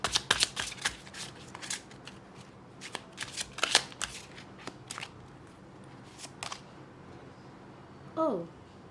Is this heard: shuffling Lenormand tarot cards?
yes